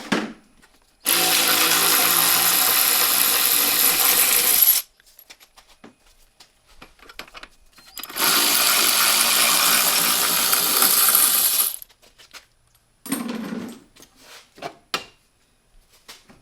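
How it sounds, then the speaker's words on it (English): Removing the brake caliper bolts on a Mercedes SLK32 AMG brake upgrade, a powered ratchet runs in two long, loud, steady bursts, with quieter clinks and handling noises between and after them. "start taking off these bolts"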